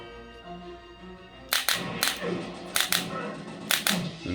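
Sharp gunshot bursts from a full-size GRS shooter arcade cabinet, several loud clustered shots after a quiet start, popping in quick pairs and triplets against a steady electronic game hum.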